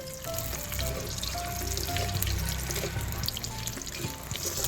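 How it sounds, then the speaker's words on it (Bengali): Five-spice seeds, dried chili and bay leaves frying in oil in a kadai give a quiet, crackling sizzle with a few small pops. The sound is steady and close, with no voices. "কড়াইতে আরেকটু তেল দিয়ে দিয়েছি, 5 ফোড়ন, শুকনো লঙ্কা আর দুটো তেজপাতাকে"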